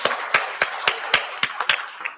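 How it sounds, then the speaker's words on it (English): Sparse hand claps from an audience for conference panelists at a plenary session, about eight sharp separate claps at an uneven pace, fairly close and moderately loud, with no talking. "A hand clap for the panelists."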